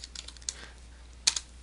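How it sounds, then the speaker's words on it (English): Light typing on a computer keyboard: a scattered run of soft key clicks, then a quicker burst of a few sharper taps, close and quiet with no talk. "I will just type USC."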